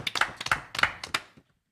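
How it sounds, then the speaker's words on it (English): Short burst of audience applause at a religious gathering: a handful of distinct, sharp claps in uneven rhythm, close and fairly loud, stopping abruptly into silence. "Another round of applause"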